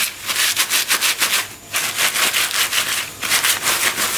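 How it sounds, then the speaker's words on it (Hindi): Garlic cloves are rubbed briskly between the hands to loosen their skins, making a rhythmic, dry rasping swish repeated about every quarter second with a short pause midway. "इस तरह इसको मसलना है।"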